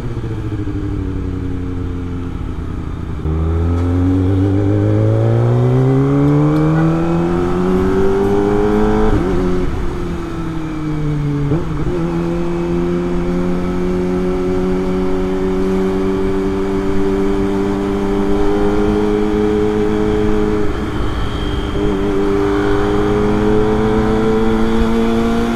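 Heavy rush-hour traffic jam with cars and motorcycles, including a Kawasaki ZX25R and a Yamaha Mio, engines droning and rising and falling in pitch as riders throttle through congestion, close and loud without talk.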